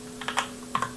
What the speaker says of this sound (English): we just type in a simple else statement